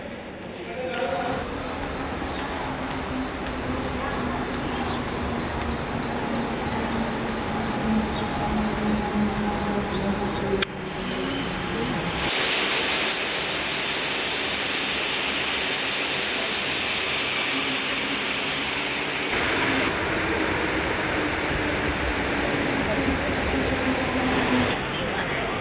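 Commuter train at Ghansoli railway station platform on the route toward Panvel, a steady broad rumble and hiss with high squealing tones throughout, with some voices around.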